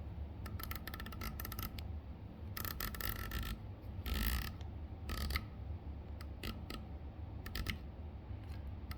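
Crisp mechanical clicks from the turret of a ZCO rifle scope being turned, coming in short bursts of rapid detent clicks with brief pauses between, close and fairly loud over a low steady background hum.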